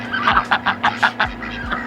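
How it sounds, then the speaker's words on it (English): Rapid, loud honking quacks in a quick rhythmic series, close by, over a steady low hum. "Had to give the ducks some food so they'd be quiet for a little bit"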